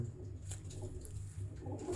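Low, soft pigeon cooing repeats steadily through the clip, close by, with faint background hiss.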